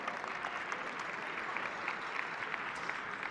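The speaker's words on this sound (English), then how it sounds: "give them a round of applause as well." A conference audience at a luncheon breaks into continuous applause, a broad, even roar of many hands clapping at a steady level throughout.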